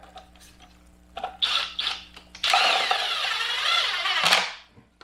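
A power screwdriver drives one screw into an electrical box set in an ICF foam wall: a few short trigger bursts, then a sustained whirring run of about two seconds that stops abruptly, with low background hum.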